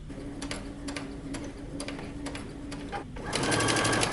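A sewing machine stitches down a folded T-shirt sleeve hem close to the edge, running in short rapid bursts separated by brief pauses, then a longer, louder continuous run at the end.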